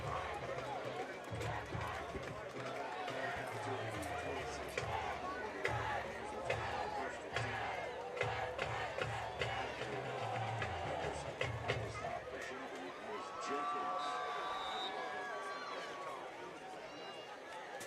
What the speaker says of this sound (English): There's a good crowd here tonight